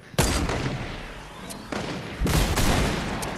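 Gunfire in a PS5 shooter game, with a railgun in play: three loud, sharp bursts of shots, one at the start, one midway and a longer one near the end, over a steady background of game noise.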